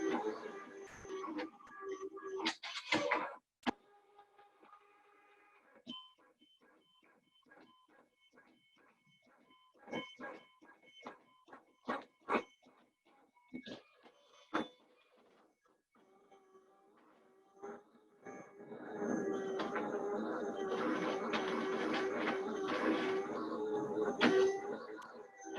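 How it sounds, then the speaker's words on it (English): A label printer prints and cuts continuous label material, with a short burst of motor noise, then scattered sharp clicks and ticks over a quiet stretch, ending in a sustained loud run of whirring and clattering, close up with no talk. "That's the sound of the printer cutting."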